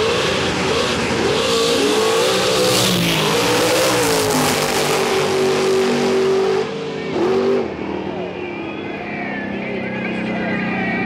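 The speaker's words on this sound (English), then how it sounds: "he carried the front wheels 350 feet and just put them down and sliding around, and he never let off the gas" A Chevrolet Chevelle drag car at a drag radial race wheelies down the strip at full throttle, its engine roaring loud and close with rising, shifting pitch as it pulls away, while a commentator talks over it.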